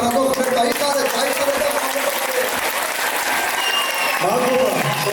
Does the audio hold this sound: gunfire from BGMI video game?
no